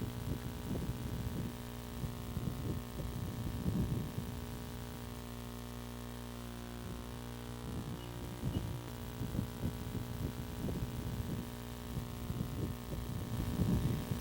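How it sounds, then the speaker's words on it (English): Overhead power lines give off a low, steady electrical hum with a faint throbbing pulse, quiet and continuous throughout with no voices. "Static electricity from the overhead power lines was so powerful you could feel it in your gut and even hear it sometimes from the ground"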